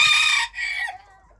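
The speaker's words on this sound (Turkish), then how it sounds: "Küçük ırklar çok ötüyor mu? Duyuyorsunuz arkadaşlar. Durmadan ötüyorlar." Small ornamental bantam chickens crowing up close, a loud cock-a-doodle-doo call that breaks into a second phrase and trails off into clucking.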